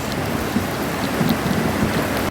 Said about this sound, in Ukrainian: дивіться, який у нас пустився дощ